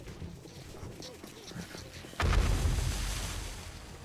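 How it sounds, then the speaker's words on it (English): Pipe bombs explode in the game 7 Days to Die, one heavy close boom with a long rumbling tail that follows quieter clatter and faint game noise. "Handy having all these pipe bombs are putting in work."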